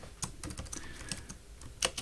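Typing on a computer keyboard while entering annotation codes: quick, close, light key clicks in an irregular run, with no speech over them.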